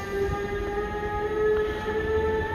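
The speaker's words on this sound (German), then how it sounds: "Regionalbahn 41 hat Ausfahrt." A Regionalbahn 41 regional train departs Hamburg Hauptbahnhof, rumbling steadily, with a sustained tonal motor hum throughout as it pulls away, with no voices.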